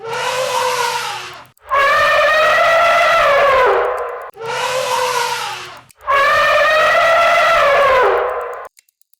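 Elephant trumpeting in two long, loud, brassy blasts with harmonic wails, separated by brief pauses and standing alone without talk.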